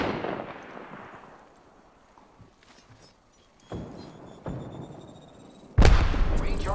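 Apex Legends gunfire crackles in scattered shots during a firefight, sparse and mid-distance at first before a sudden loud close burst near the end.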